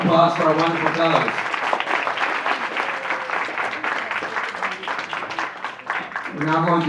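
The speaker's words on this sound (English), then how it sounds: "Give a round of applause for our wonderful fellows." Audience applause for graduation fellows at a 2024 school graduation ceremony, dense clapping running the full length with voices speaking over it at the start and end.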